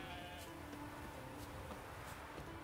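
Sheep bleat faintly in The Witcher 3 while they are being herded on the Skellige isles, with a few soft calls over a steady game ambience.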